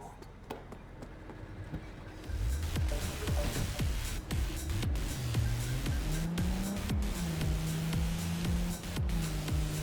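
Car driving through the streets of the video game Cyberpunk 2077, a steady engine drone with rising and falling pitch as the car accelerates and shifts, plus scattered clicks and bumps, loud and continuous.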